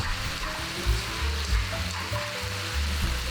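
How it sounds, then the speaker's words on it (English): Fresh egg noodles stir-fry over medium heat in a pan, giving a steady, close sizzle with scraping stir strokes throughout, no voices. "Stir around the noodles in medium heat for about a minute or two"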